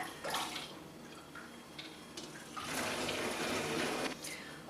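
Homemade mountain-style brewed liquor poured from a container back into a jug through a strainer, heard as intermittent close splashing that swells into a sustained gush near the end, with no voices.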